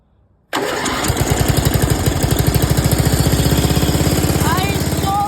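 Engine of an off-road lawnmower fitted with a new welded exhaust starts abruptly and runs loud and close, a steady rapid chugging idle with a rough, raspy exhaust note for the rest of the clip.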